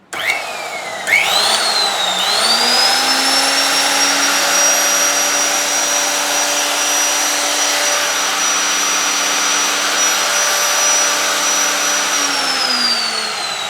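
An NRT PRO 2490 VB cut-off saw for metal, its belt-driven motor switching on, spinning up with a rising whine and holding a loud, steady high-pitched hum under no load before winding down at the end.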